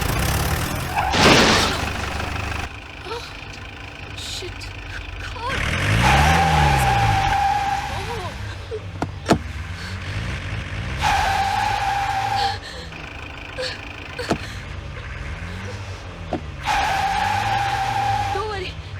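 A car in a dubbed South Indian action movie reverses fast on a road blocked by a fallen tree, tires skidding and the engine revving in repeated loud bursts, with voices and a swear word over it.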